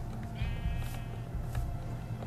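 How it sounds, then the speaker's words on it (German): Brown sheep bleating in Minecraft, two or three short wavering bleats of moderate loudness over steady low background noise. "Ach, ein braunes Schaf."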